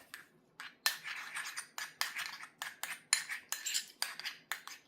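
Utensil scraping and clinking in a bowl while mashed potato is mixed with sour cream, salt and pepper for Japanese potato korokke, coming as a run of short, close, irregular strokes with brief pauses, no talking.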